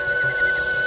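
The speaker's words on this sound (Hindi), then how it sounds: "ये तो बांसुरी की आवाज है" A flute played at night in a jungle: a thin, steady, sustained tone held for about a second over a faint, hissy background.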